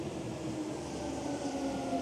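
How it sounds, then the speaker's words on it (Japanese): A commuter train in Japan rumbles steadily at close range, a continuous low mechanical drone with a faint tonal hum, as it rolls slowly into a crowded platform. "これからこの電車に乗っていきたいと思います。"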